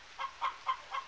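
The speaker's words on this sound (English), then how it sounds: "Got some loud chickens." Chickens clucking in the PS1 farming game Harvest Moon: Back to Nature, four evenly spaced clucks in about a second, clear and close with no talk.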